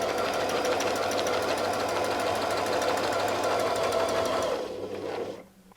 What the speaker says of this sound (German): Und wir nähen erneut.